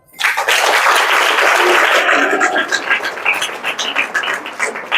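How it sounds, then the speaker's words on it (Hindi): A crowd breaks into dense, sustained clapping that swells quickly and then thins out into scattered claps, with a voice faintly audible underneath. "ये अभी उनके लिए तालियां बजाओ।"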